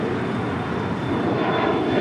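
An airliner takes off from runway 25 right at Los Angeles International Airport, its engines giving a loud, steady roar that fills the whole moment with a broad rushing noise and a faint high whine.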